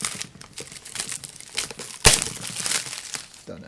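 Cardboard and plastic packaging of a HipStreet Micron tablet box being ripped open by hand, with crinkling and tearing and one sharp loud rip partway through, close up and without talk.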